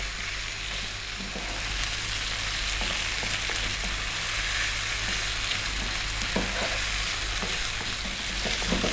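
Beef curry with fresh chili frying in a pan for a Kerala nadan beef curry, a steady loud sizzle with scattered scraping and stirring clatter throughout, no voices.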